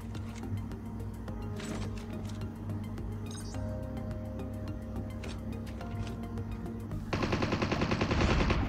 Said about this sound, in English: There's someone firing at me.